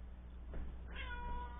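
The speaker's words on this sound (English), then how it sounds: "Ignore the cat." Cat meowing in a home kitchen, a single drawn-out rising meow over a low steady background hum, fairly faint and close.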